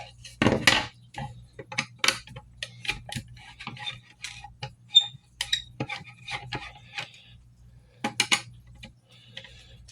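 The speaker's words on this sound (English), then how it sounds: "Take off the screws." Small metallic clicks and taps from removing screws from a firearm part, scattered irregularly with a few sharper clusters, close and clear against a quiet background.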